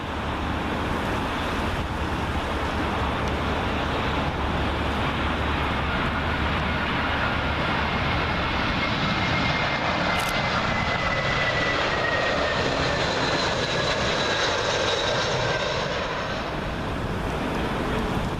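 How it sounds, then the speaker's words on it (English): A British Airways Airbus A320 arriving from Cologne sweeps low overhead toward Heathrow runway 27L, a loud, continuous jet roar with steady rumbling that stays strong for the whole stretch. "Up next, we got an Airbus A320 for British Airways, and this one's coming in from Cologne"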